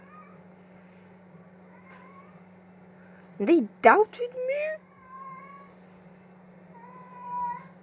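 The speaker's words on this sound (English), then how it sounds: "Aww, kitty." A cat meows a few times close by in a short burst of clear cries, heard over a steady low hum while a person talks nearby.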